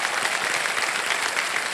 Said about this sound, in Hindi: एक बार तालियां बज जाए ललित कुमार जी के लिए।